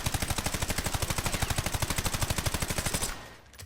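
A machine gun with a 60-round magazine fires in one unbroken, rapid burst in Call of Duty Warzone, evenly spaced loud shots for about three seconds before cutting off.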